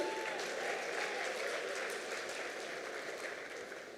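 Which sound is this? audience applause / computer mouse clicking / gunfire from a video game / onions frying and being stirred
audience applause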